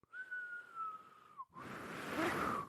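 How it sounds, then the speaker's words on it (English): A person whistles by breathing out, holding one thin steady tone for over a second before it wavers, followed by a breathy, airy rush of exhaled air with faint squeaky pitches. "That's me whistling out."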